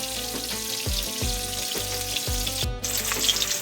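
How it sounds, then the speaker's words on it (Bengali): Katla fish fries in hot oil in a pan, with a steady crackling sizzle and soft rhythmic stirring knocks, close by and without talk. "তেল দিয়ে মাছটা ভালো করে ভাজতে হবে"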